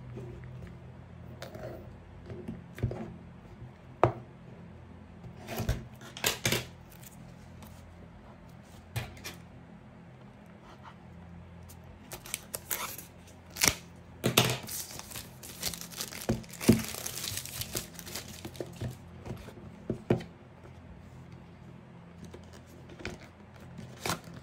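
Packaging of a Firewalla network security device being opened, with scattered crinkles, rustles and sharp tearing bursts spread irregularly at close range, busiest toward the middle, with no voices.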